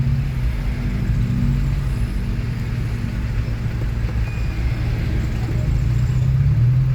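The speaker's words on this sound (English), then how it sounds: "Here's a bit of a gridlock situation in Antananarivo" Congested street traffic in Antananarivo, Madagascar, a steady loud low rumble of idling and creeping engines close by, continuous for several seconds with a faint passing high tone.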